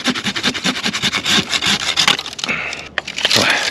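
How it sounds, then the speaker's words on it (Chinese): A hand saw cuts through a thick Sichuan pepper tree branch, rapid steady back-and-forth rasping strokes up close and loud, then a brief pause and a few rougher strokes, with no talking. "还是换上锯子吧"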